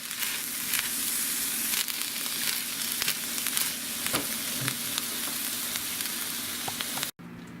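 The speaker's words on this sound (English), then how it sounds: "stir all that in and let that all heat up" Sloppy Joe venison heats in a pan with a constant close sizzle and faint stirring clicks, cutting off abruptly just before the end.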